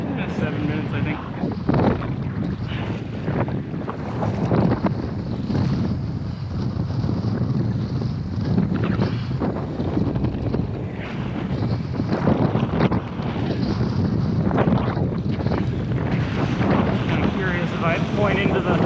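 Wind gusts steadily across open water while someone paddles a Pungo 140 kayak near sunset, a continuous loud rush with buffeting against the microphone and faint splashes underneath, no talking.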